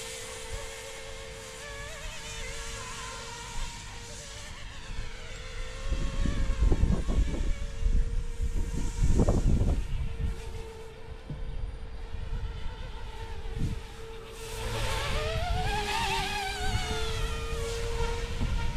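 Small Eachine E135 RC helicopter with 3D 6G flybarless control, its rotor spinning at 85% head speed, gives a steady high whizzing whine throughout, with rising and falling pitch as it maneuvers and gusts of wind buffeting louder in the middle.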